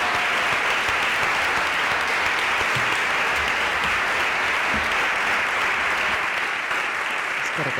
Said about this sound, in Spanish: Vamos a darles un aplauso inmenso a Mayalen Beloki, Isabel Peña e Estíbaliz Urresola